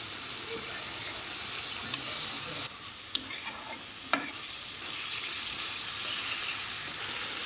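Ginger garlic paste fries in a pan on a home stove, giving a steady hiss and sizzle. Spoon strokes stir it, with a few sharp scraping clicks against the pan.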